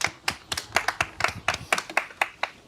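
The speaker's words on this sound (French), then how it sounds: "t'applaudis pas Théo?" Hands clap in a steady rhythm, about a dozen sharp claps close by, with no talking.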